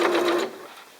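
A sewing machine runs a short burst of lock stitch, its rapid mechanical whirr fading out within half a second, close and fairly loud with no voices.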